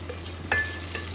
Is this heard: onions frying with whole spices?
yes